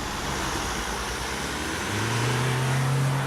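Cars pulling away side by side from a standstill on snow, a broad steady engine roar with a rising low drone building toward the end, fairly close and continuous with no talk.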